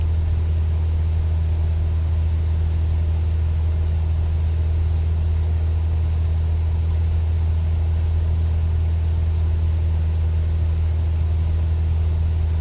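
A light aircraft's piston engine held at 2400 RPM in MSFS 2024, a steady low droning rumble with a strong unchanging hum, constant and close from start to finish with no talk.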